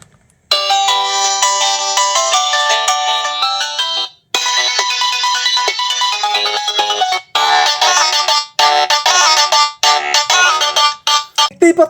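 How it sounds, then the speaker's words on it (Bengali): A budget button phone plays a loud, bright melodic ringtone at close range, with sustained electronic tones that pause briefly and then resume as choppy bursts near the end. "ফোনটির যে রিংটোনের সাউন্ড এটা ভাই আর কি শোনাবো"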